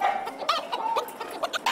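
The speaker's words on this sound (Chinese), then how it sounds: "高翔让公鸡在母鸡堆里生活，虽然能看不能碰" Fighting-breed chickens kept among hens, with continuous close clucking and squawking calls from several birds, busy and overlapping with sharp rises, no talk.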